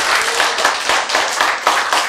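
Audience applause at a health lecture, a dense burst of hand clapping that swells and dips in waves for about two seconds, loud and close, with no talking over it.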